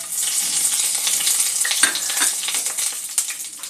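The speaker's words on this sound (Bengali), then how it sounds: "ফোড়নটা একটু ভেজে নেব।" Whole cardamom, cloves, a bay leaf and a broken dry chilli fry in hot oil as the tempering for a vegetarian paneer curry, giving a loud, steady, close sizzle with stirring scrapes throughout and no talking.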